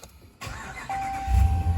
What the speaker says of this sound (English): Then as you get into the truck, you can start it up